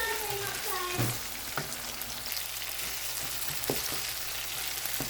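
Tomatoes sizzle as they cook down in a hot pan, with a spoon scraping and stirring at intervals. A voice speaks briefly near the start.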